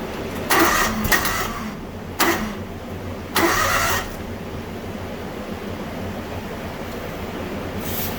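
A John Deere X724 riding mower engine that turns over but won't start, cranking in three short bursts of whirring starter noise separated by pauses, with a low steady hum between them and no speech.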